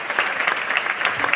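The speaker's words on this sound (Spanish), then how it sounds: "Un aplauso," Audience applause at an award ceremony for a La Rioja tourism campaign, a brief burst of dense clapping from a crowd, steady and lively throughout.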